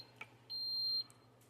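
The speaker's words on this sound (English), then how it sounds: "the machine stops and indicates with 3 beeps that it's finished." A single quiet, high electronic beep from an espresso machine signaling it has finished holds for about half a second, with faint clicks before and after.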